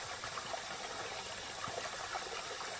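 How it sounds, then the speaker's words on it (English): Water flowing in a stream, a steady bubbling trickle and gush that runs on without pause, moderately close and unbroken by voices. "The energy of flow patterns in water,"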